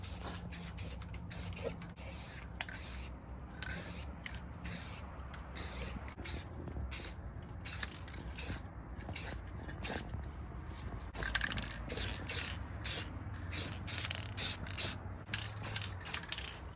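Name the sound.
spray painting a second coat on G35 coupe part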